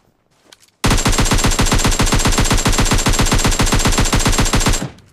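Rapid automatic gunfire in PUBG Mobile Lite, a loud unbroken burst of evenly spaced shots lasting about four seconds after a brief quiet start, then cutting off abruptly.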